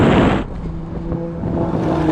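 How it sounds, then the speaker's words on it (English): Ferrari 488 Pista launching hard in a drag race against a Lamborghini Aventador SV and a Porsche 911 Turbo S, a loud burst of engine roar that drops quickly into a receding, steady drone. "This was spinning up its wheels and it just flies."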